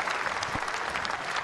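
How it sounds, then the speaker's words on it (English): A tennis crowd at the Moorilla Hobart International applauds the tournament winner with a full, continuous burst of clapping from many spectators, loud and sustained through the whole moment. "Ladies and gentlemen, please, another big round of applause for Elena Vesnina."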